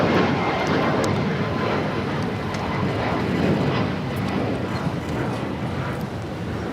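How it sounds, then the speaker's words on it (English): A Lufthansa airliner taxis and turns at LAX, its engines giving a steady, broad rumbling whine that holds at an even level throughout, close and continuous with no talk over it. "The Lufthansa King should be making that left-hand turn on to Lima."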